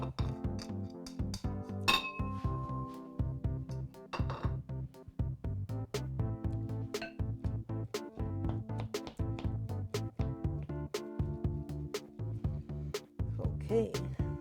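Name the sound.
mixing onions in a bowl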